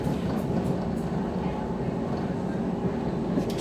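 A London Overground Lioness Line train runs toward Watford Junction, a steady rumbling roar of wheels and motors heard from inside the carriage, continuous and fairly loud.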